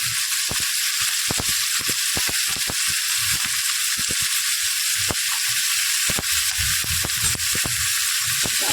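Finely chopped onions fry in a pan over browned garlic for a garlic-fenugreek dhaba-style dish. A steady, close sizzle runs throughout, broken by scattered sharp clicks and scrapes from stirring, with no talking.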